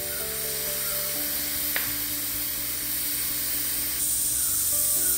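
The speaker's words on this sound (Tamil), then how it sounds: "நம்ம இந்த சைடு ஸ்டவ்வில் வாழைக்காயை தாளிச்சிடலாம்." Raw plantain is tempered in hot oil in a pan on a stove, giving a steady, close, even sizzling hiss with a low hum beneath it throughout.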